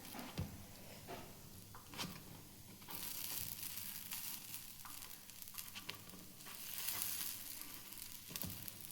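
Rice and lentil appe fry in a covered appe pan, giving a faint, steady sizzle with soft crackles and occasional light clinks, heard alone without talk.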